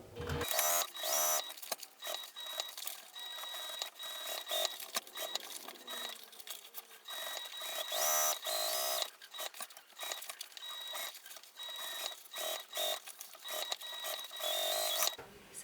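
A sewing machine stitches a seam about a quarter inch in on a small tote bag, running in steady bursts of rapid mechanical chatter with brief pauses between, close and fairly loud, no voices.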